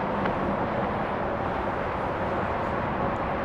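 An American Boeing 767-300 jet on its takeoff run at DFW Airport, flight 1201 bound for Memphis, making a steady loud broadband engine roar that neither rises nor fades across the moment.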